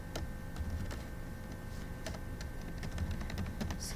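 Quiet keystrokes on a computer keyboard while Python code is being written, a scatter of separate clicks and taps at an uneven pace, faint and close, with no voices.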